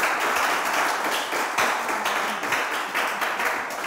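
Loud, dense applause from a studio audience for the winner of a television quiz show, continuous close clapping throughout with slight swells.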